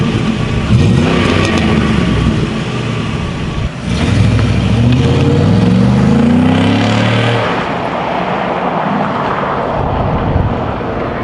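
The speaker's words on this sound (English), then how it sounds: "So now when we turn the truck on, you'll notice very, very quiet." A pickup truck engine idles with an exhaust cutout plate fitted, giving a steady, muffled, close-up drone that runs continuously with no revving.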